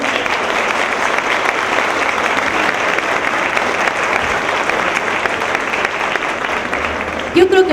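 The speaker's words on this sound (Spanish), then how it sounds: "Un aplauso, por favor." Audience applause at a keynote lecture, dense and loud, continuous clapping from a large crowd that holds steady for several seconds before a voice briefly cuts in at the end.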